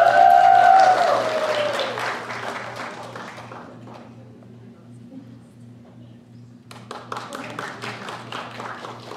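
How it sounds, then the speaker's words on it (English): Concert audience applause for a performer, a loud burst of clapping with a sustained tone underneath that fades to near silence midway, then scattered claps pick up again toward the end. "please give a round of applause to the first one, Rina Gunkamani."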